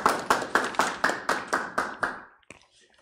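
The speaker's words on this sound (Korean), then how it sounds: "큰 박수 다시 한번 부탁드리겠습니다" A live audience at a Korean lecture on regional intermediary support organizations claps in a burst of nine or so sharp, evenly spaced claps. They fade out near the end, followed by a single faint tap.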